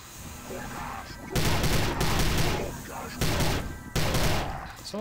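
Weapons fire in the video game Prey, with dense, loud bursts of rapid shots in several long volleys separated by short quieter gaps.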